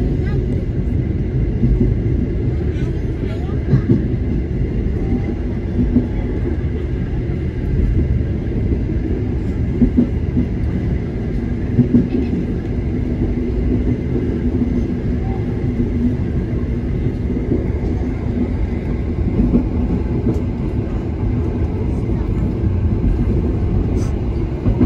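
The Indonesian passenger train Bukit Serelo runs on rails, heard from inside as a constant low rumble and clatter of the carriages, with a voice talking over it.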